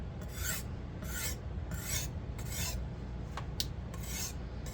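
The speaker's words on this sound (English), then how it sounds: "I know some people are particular about the sound of stones." A Zwilling Kramer Damascus chef's knife is drawn across a PDTools silver CBN sharpening stone in a clamp, giving about seven steady, evenly spaced rasping strokes, close and clear over a low background hum.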